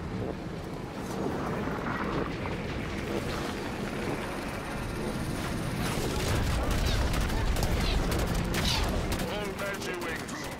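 Rapid gunfire and explosions from a Halo 5: Guardians firefight, with overlapping bursts and booming hits that build toward the end amid dense battle noise.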